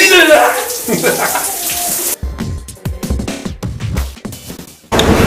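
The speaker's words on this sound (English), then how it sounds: "Wow, a hot shower." Electric shower running hot water: steady rushing water pours loudly for a couple of seconds, then thinner splashing and dripping follow before the spray surges again.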